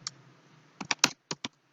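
A computer keyboard is typed on for network switch commands: a lone click, a pause, then a quick burst of five sharp, close keystrokes, quiet and without talk.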